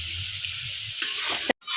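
Vegetables sizzle and crackle in a hot pan while being stirred for Bengali-style chow mein. A spatula scrapes noisily across the pan about halfway through, then the sizzling cuts out briefly before resuming.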